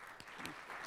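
Audience applause fills a corporate evening event at a sponsored venue, a steady dense clapping that holds at an even level throughout the short burst.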